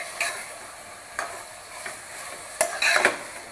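Mutton being stir-fried in a pan over a high gas flame, with a few short, scraping stirs and soft sizzling bursts, close and moderately loud, with no talking.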